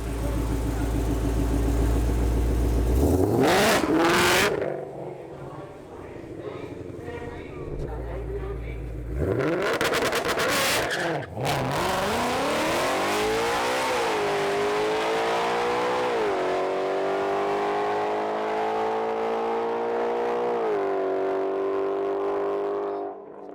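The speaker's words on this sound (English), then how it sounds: "just floor it and go forward" A car at full throttle roars hard from a standing start, its engine note climbing through gear changes in long rising sweeps after a couple of brief bursts. Loud and close throughout, with voices faintly mixed in.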